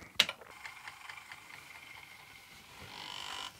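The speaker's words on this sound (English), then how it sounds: "The spindle seems to make the noise." An Atari 1050 disk drive with a noisy spindle runs with faint, rapid mechanical ticking and whirring, starting with a sharp click and ending with a higher whine.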